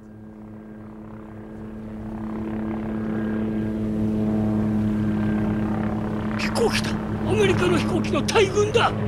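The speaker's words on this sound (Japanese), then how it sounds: "アメリカのグラマン戦闘機だ。" American Grumman fighter planes fly overhead, a steady propeller drone rising from faint to loud and droning on, with voices breaking in near the end.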